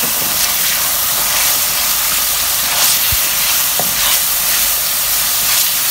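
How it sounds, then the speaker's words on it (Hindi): Spices with red chili, turmeric and salt frying in a pan for potato and spinach sabzi, making a loud, steady, close hiss with occasional faint pops and no talk. "और थोड़ी देर इनको हम भूनेंगे ताकि जो इनका कच्चापन है"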